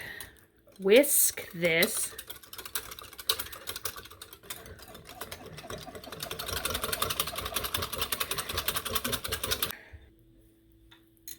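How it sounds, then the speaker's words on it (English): Ingredients whisked in a bowl for a pineapple gravy for ham, starting with a couple of louder knocks, then a fast, even, rattling whisk against the bowl that builds and stops abruptly. "And then we're just going to whisk this."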